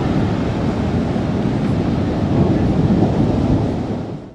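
Big, powerful ocean waves crash continuously on a beach known for strong currents, a loud, dense roar of surf with wind rumble swelling slightly toward the end before fading; no voices.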